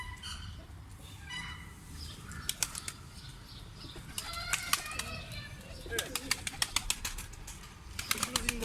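Tumbler pigeons at a coop in Kartal Yakacık, Istanbul: bursts of sharp, rapid wing claps and flapping, heard close and fairly loud against a soft outdoor background, with occasional cooing and faint human sounds.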